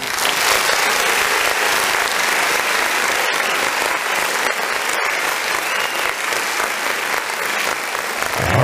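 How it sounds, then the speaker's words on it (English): Steady, loud applause from an evening audience welcoming Erica Muhammad, a dense wash of clapping that holds evenly for the whole stretch with no speech over it. "Let's give her a big round of applause, y'all."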